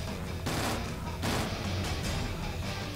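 Loud, close gunfire from a gun in the video game Jurassic: The Hunted, several dense bursts of rapid shots in quick succession.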